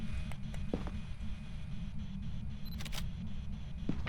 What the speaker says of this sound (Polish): Zrób zdjęcie soli, jak masz aparat.